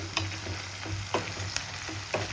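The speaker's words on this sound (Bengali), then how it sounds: "তো দেখুন পেঁয়াজটা ভাজা হচ্ছে" Onions frying in a pan for homemade chicken pulao, a steady close sizzle with a low hum beneath and a few sharp scraping stirs spaced through the short stretch.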